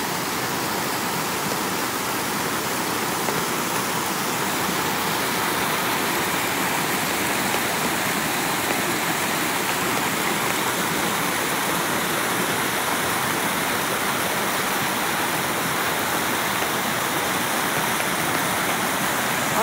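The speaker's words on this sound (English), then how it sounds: "Look at that waterfall." Steady, dense roar of a forest waterfall near Kristiansand, Norway, a continuous wash of falling water with no pauses or voices.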